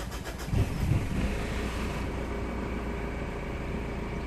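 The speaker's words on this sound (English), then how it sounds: "if I start the engine" A Mitsubishi Shogun's engine starts up with a brief cranking burst, then settles into a steady idle rumble close by, with no talking.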